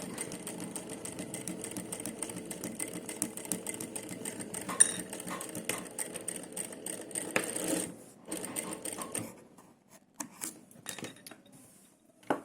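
Sewing machine stitching fabric in quarter-inch seams, a rapid rhythmic mechanical chatter running close and steady for several seconds, then stopping into near silence with a few small clicks and handling sounds.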